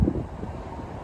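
Gusty outdoor wind buffets and rumbles low and steady beside a rooftop unit, with a stronger gust at the start and no voices.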